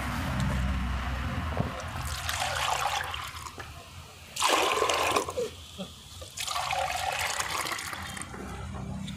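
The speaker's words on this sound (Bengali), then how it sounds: "টবের মধ্যে সুন্দর করে জলটি চারদিক থেকে দিয়ে দিলাম।" Water is poured around the soil of a potted lily plant, producing splashing and trickling bursts that start and stop several times, with a voice talking quietly in between.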